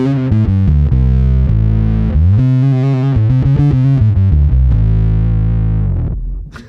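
A bass guitar played through a Pork and Pickle fuzz pedal, with thick distorted sustained notes in a loud, close riff that shifts pitch several times before fading out at the end.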